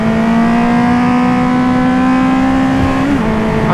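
The exhaust of a 2020 Honda CB650R A2 motorcycle wails loudly and steadily at full throttle, holding a high droning note before dipping briefly near the end.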